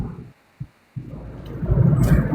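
Low, dull rumble of a car interior in motion, briefly dropping out with a couple of thumps, then building to a steady road drone.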